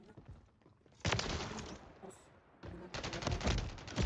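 A sniper rifle fires in a video game with sharp, loud reports in two bursts of crackling gunfire separated by a quieter stretch.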